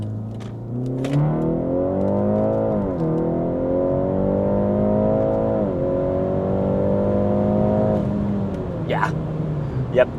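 Tuned BMW G21 330e plug-in hybrid wagon, stage 2, accelerating on the road, heard from inside with windows closed: a steady engine drone rising in pitch through several gear changes, then easing off with faint clicks near the end.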